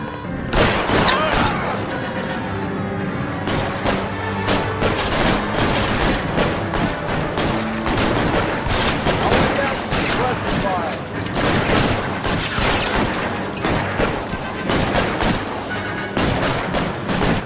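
A shootout in the game L.A. Noire, with dense, rapid gunshots and booming reports cracking continuously over tense music while voices speak throughout.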